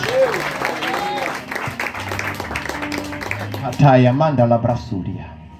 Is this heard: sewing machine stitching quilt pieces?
no